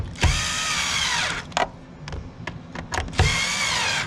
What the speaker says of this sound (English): we're just screwing them in a crisscross pattern